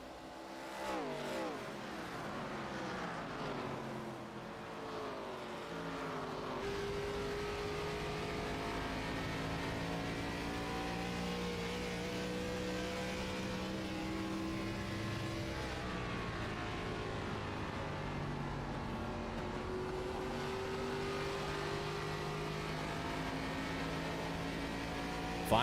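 Race cars roar around an oval track at Phoenix, a steady, loud engine drone with pitches rising and falling as cars pass and lap, continuous throughout with no talk over it.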